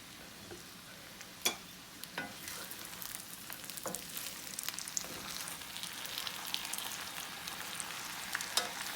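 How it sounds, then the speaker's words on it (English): Potatoes with caramelized onions pan frying, a soft continuous sizzle with scattered crackles and a few scraping stirs of the pan. "I'm gonna do my final crisp up on these potatoes."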